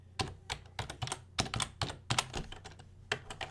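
A computer keyboard clacks under fast, uneven bursts of keystrokes while code is typed, close and crisp with short pauses between clusters, and nobody speaks.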